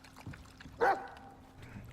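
A dog in the survival game Icarus makes a short lapping, splashing sound near the middle, close and fairly loud, with faint quieter noises before and after.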